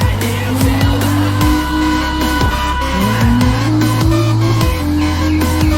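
A toy race car drifting across a muddy surface, with continuous loud engine-like whine and tire squeal sweeping up and down in pitch, rising and falling in sharp bursts throughout.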